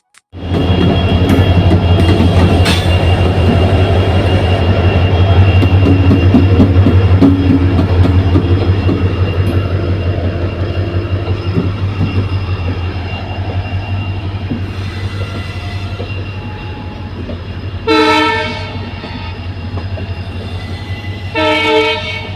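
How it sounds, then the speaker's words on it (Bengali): A passenger train rumbles steadily at close range, wheels and carriages droning loudly throughout, with two sharp horn blasts sounding near the end. "এই যে ট্রেনটা এই ট্রেনটাই করে আসলাম আমরা"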